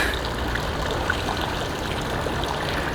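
Water splashing and trickling from a small frog fountain beside a pond in a resort courtyard, a steady close wash of sound with no talk.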